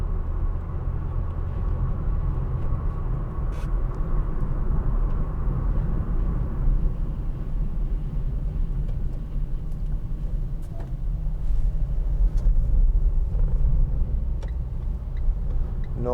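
A 2015 Vauxhall Vivaro 1.6 CDTi ecoFLEX van, empty, accelerating: a low diesel drone and road rumble from inside the cab, steady and moderately loud throughout.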